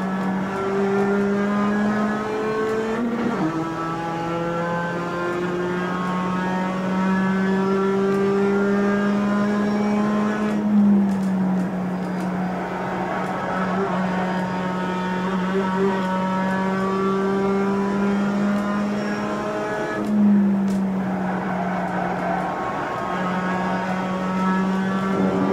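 A race car engine at Lime Rock Park in the iRacing sim drones steadily and close at sustained revs, with brief dips in pitch around gear changes or corners and no talk over it.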